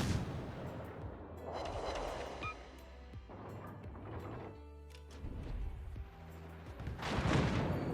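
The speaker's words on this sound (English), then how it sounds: "He's gonna get one more salvo on me, and I don't want it to be a good one." Naval artillery salvo in World of Warships: several heavy, booming shell reports spaced over a few seconds, each with a rumbling tail, against a low background of ship noise, ending in a louder, close blast.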